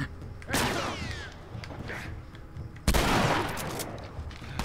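Shotgun blasts in The Last of Us video game: two loud, sharp reports roughly two seconds apart, each with a ringing decay, alone with no talk over them.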